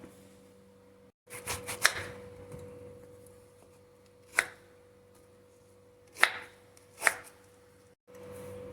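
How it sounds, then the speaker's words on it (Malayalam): A knife chops guava for a salad with a handful of sharp, separate cuts on a board, spaced irregularly against a quiet kitchen hum. "പേരയ്ക്ക അരിഞ്ഞു കഴിഞ്ഞു"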